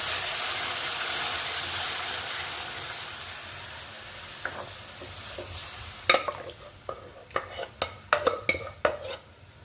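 Steady frying sizzle, then a burst of scraping and clattering as mashed pav bhaji vegetables are stirred in a pan with a utensil, sharp irregular knocks over the hiss.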